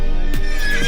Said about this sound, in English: This Shire horse named Cracker was born in 1989 in Somerset, England.